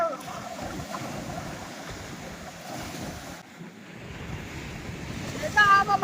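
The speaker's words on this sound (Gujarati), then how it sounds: "આવો માધુપુરના દરિયાનો નજારો છે ભાઈ" Surf at Madhavpur beach on the Gujarat coast rolls in as a steady, close roar of breaking waves, with heavy wind buffeting the microphone throughout and a brief tonal sound near the end.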